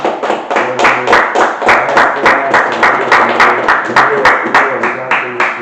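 Rhythmic clapping on a live talk stream, a regular beat of hand claps repeating about three times a second under a talking voice.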